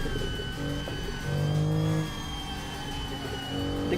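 A turbocharged car engine revs up hard as it accelerates, its pitch climbing steadily under a constant mechanical whir, loud and close.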